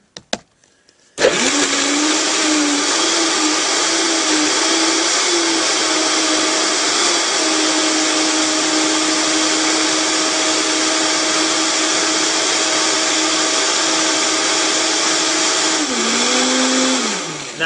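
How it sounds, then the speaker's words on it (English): Blender whirring steadily through a green smoothie of pear, mango, banana, kale and a dash of cinnamon, a loud continuous motor drone that starts abruptly, holds for about fifteen seconds and dips in pitch near the end. "And then I'm going to blend, baby."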